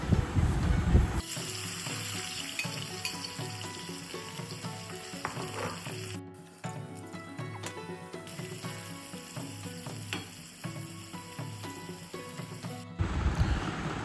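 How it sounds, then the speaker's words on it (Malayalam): Small onions frying in hot oil in a pan for Kerala-style ginger curry, giving a steady, dense sizzle and crackle throughout, with tonal music playing over it and no talk. "ആ എണ്ണയിൽ തന്നെ ചെറിയ ഉള്ളി ഫ്രൈ ആക്കാൻ ഇടേണ്ടതാണ്."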